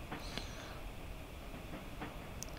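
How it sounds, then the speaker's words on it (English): Train rolling along rails in a video game, a steady, even rumble of wheels on track with faint clicks and a brief high hiss near the end, no voices. "As we are now on a train."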